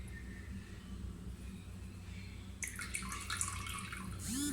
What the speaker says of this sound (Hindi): और फिर एक बाउल में पानी ले लें